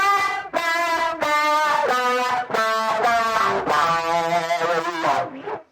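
An electric guitar is played through a Cobra Fuzz plugin by Safari Pedals, giving a heavily fuzzed, compressed tone. A run of sustained, buzzing notes and chords changes pitch every half second or so before cutting off.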